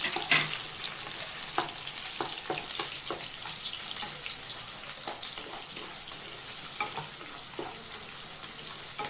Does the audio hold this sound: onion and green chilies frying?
yes